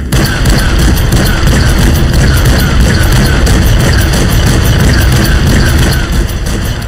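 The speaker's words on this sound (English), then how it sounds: "So let's fire the guns." Rapid bursts of gunfire from a video game, loud and continuous with booming low end and a steady clatter of shots, no talk over it.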